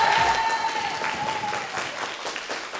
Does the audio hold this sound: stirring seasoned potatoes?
no